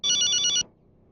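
A telephone ringing in a film scene, one loud electronic ring burst for about half a second, then stopping into quiet room tone.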